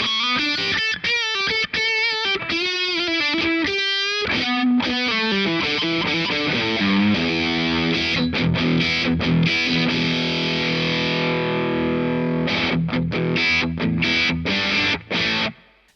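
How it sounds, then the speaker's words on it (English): Heavily distorted electric guitar through a Boss DS-1 distortion pedal playing loud chords and riffs, with a thick, saturated, buzzing tone that sustains and ends abruptly. "Does it get more scoopy the more you crank the distortion up?"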